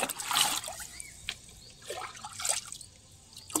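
Water from a mug pours and trickles into a container while fertilizer is diluted for plants, several short splashing pours in quick succession, close and fairly quiet, with no talking.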